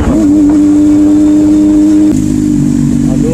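A motorcycle ridden in cold weather in Pakistan between Abbottabad and Mansehra, its engine droning close and loud at a steady pitch before shifting slightly as the rider speeds up.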